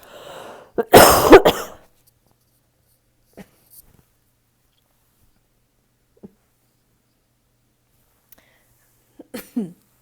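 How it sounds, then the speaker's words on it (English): A single harsh cough near the start, then mostly silence with a few faint clicks and small sounds scattered through the rest. "Could cough at any moment."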